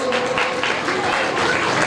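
Audience clapping at a cultural program in a Jain temple in Ladpura, Kota, steady applause filling the short stretch with a voice faintly mixed in.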